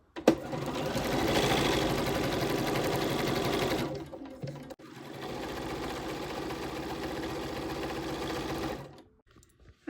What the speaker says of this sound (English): they're going to be shorter strips after I sew them because I'm going to lose a 1/4-inch seam